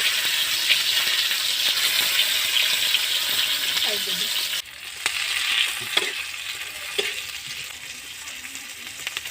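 Small pond fish frying in oil in a pan, giving a steady loud sizzle and crackle throughout, with occasional clinks and stirring sounds.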